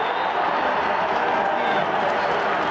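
A football stadium crowd roars steadily after a sack in an NFL game between the Green Bay Packers and the New York Jets, a dense, loud wash of cheering that holds for the whole stretch.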